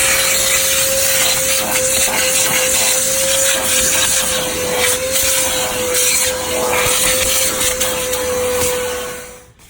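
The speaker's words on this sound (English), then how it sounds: "We vacuumed and washed windows and everything" A vacuum cleaner runs steadily inside a car while the interior and seats are cleaned, a loud continuous motor whine with slight shifts in tone as the nozzle moves, cutting off at the end.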